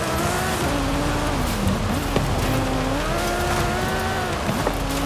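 A modified car slides sideways across dirt after a yanked handbrake, its engine droning loud and steady with rising and falling revs and tire scrub throughout.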